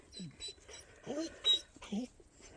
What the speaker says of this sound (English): That dog's just dying to come over here.